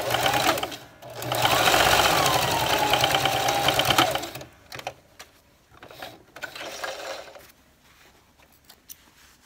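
Sewing machine stitching a fabric face mask, with a loud continuous whirring run of about four seconds, then shorter, quieter bursts of stitching separated by handling noises.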